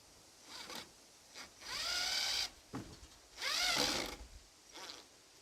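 A battery-powered drill running on old NiCad batteries drives screws in short whirring bursts, each spinning up and slowing, with two longer runs among shorter blips, close and fairly quiet.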